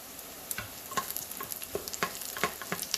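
Three cloves of garlic hit a pan of softened onions and fry with a bright, continuous sizzle. Frequent quick spatters and crackles come through alongside the scrape of stirring, heard up close with no voices.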